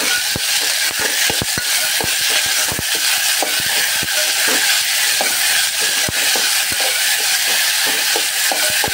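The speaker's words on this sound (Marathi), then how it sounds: "चिरलेले टोमॅटो घातलेले आहे. थोडासा परतून घेणे." Chopped tomatoes sautéing in a pan make a loud, dense hiss broken by frequent sharp ticks and scrapes from stirring, kept up evenly throughout, with nobody talking.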